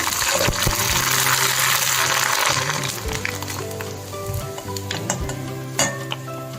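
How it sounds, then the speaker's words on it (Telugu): Sago and semolina vadiyalu frying in hot oil in a pan on a stove, a loud, steady close sizzle and bubbling that eases slightly toward the end, with a few light clinks. "ఇప్పుడు వేయించి చూపిస్తాను స్టవ్ వెలిగించి అవి పెట్టుకుని ఆయిల్ వేసుకుందాం"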